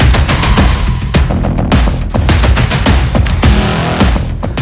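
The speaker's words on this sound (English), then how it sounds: "the signature thump from the exhaust retains the magic" Rapid, loud pulsing thumps from a 2023 Royal Enfield Bullet 350 motorcycle exhaust, a rough continuous rhythm of sharp bursts close by.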